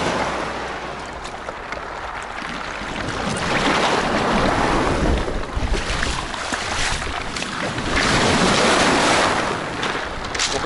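Steady rushing sea surf with swelling and receding washes of water, broadband and fairly loud, with wind noise buffeting throughout and no voices.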